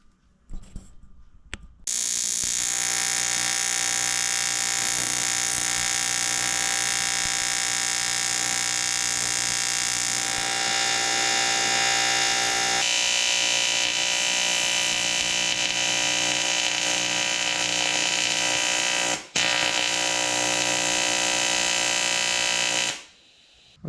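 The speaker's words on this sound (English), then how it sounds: "So let's get welding." A TIG welder joins a truck camper frame, its steady loud buzzing hiss running continuously for about twenty seconds with a brief break, close and without talk.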